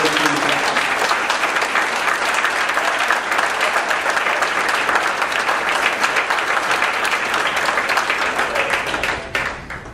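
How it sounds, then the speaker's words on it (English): A hall of honor induction banquet fills with sustained, dense applause from a large audience, loud and steady for about nine seconds before tapering off at the end. "Let's have a round of applause again for this 2013 inductee."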